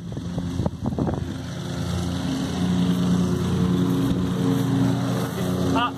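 Lawn mower running outdoors while vacuuming up fallen leaves, a steady loud motor drone after a few bumpy knocks at the start, with wind buffeting the microphone.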